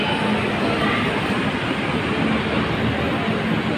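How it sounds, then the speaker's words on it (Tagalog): An LRT light rail train passes near a busway at SM North EDSA, giving a loud, steady rumbling roar of wheels and motors that fills the whole moment. "Yan yung LRT."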